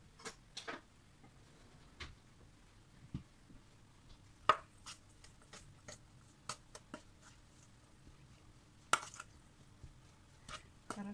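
A sandwich topping is stirred in a bowl, with irregular soft taps and scrapes of a utensil against the bowl's side, quiet and close.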